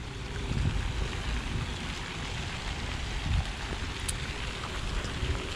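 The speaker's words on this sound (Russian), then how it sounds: "Дождик, дождик, дождик, дождик." Steady rain falls across Hyde Park in London, a dense, continuous wash of hiss and patter with water drops striking close by, and no voices.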